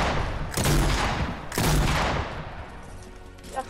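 Two loud, booming blasts from heavy shotguns in a multiplayer shooter game, about a second apart, each with a long rumbling tail.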